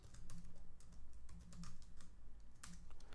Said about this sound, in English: I'm going to go ahead and type out my words of choice.